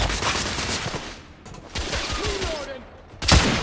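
Gunfire during a headshot in the third-person shooter The Order: 1886, with several sharp cracks and bursts amid ongoing game sound, ending in a loud close shot.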